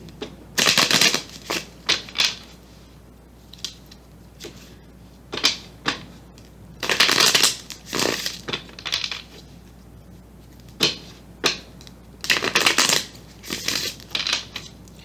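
Tarot cards are shuffled and drawn in repeated riffling bursts, loud and close, separated by short pauses and soft card taps.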